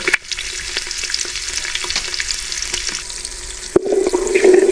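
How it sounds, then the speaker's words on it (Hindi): One medium onion frying in hot oil in a pot for pulao: a continuous loud close sizzle with scattered light clicks, swelling and bubbling more strongly near the end, no talk. "ऑयल हमारा गर्म हो चुका है, इसमें प्याज शामिल कर देंगे।"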